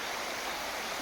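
Shallow stream flowing steadily outdoors, a continuous close wash of water with no voices.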